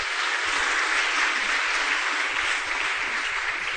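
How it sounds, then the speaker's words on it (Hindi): An audience at a spiritual discourse breaking into applause, a dense, steady wash of many hands clapping at once, loud and continuous throughout. "अगर आपको गौरव लगे तो ताली बजाना।"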